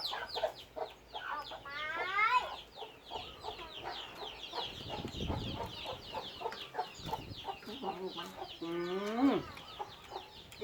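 Chickens cluck and squawk in a busy farmyard, several birds close by with rapid overlapping clucks and a few louder rising cackles, while people talk faintly in the background.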